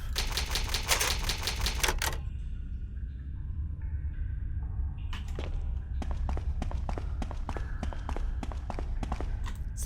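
Rapid typewriter key clacks from the save typewriter in Resident Evil 1 HD, crisp bursts of typing at the start and again later, separated by a quieter stretch with soft tones and game ambience.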